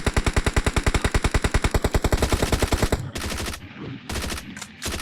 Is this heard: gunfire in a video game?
yes